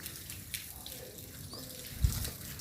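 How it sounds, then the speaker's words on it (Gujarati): Sprinklers spray water continuously across a freshly poured concrete roof slab while a motor pumps, giving a steady low hiss of running water with one brief thump near the end. "આખે ને ફુવારા મૂક્યા છે, પાણી એક ધારું ચાલુ જ રહે"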